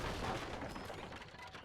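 Cannon fire in Age of Empires III: Definitive Edition, a short, dense stretch of booming artillery blasts and battle noise layered continuously, fairly loud with no pauses.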